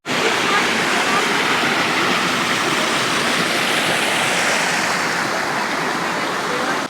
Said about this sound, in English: Such a nice little creek.